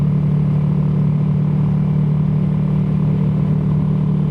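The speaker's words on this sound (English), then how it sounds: "it does give that little bit of induction roar that I like" A Royal Enfield Himalayan 450 motorcycle engine drones loud and steady at close range, a constant low induction roar without changes in pitch.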